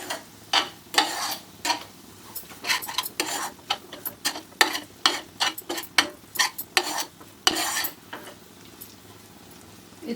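A spoon stirs a sticky coconut and jaggery poornam filling in a pan, a close, repeated scraping rhythm of separate strokes that ends with a few slower scrapes.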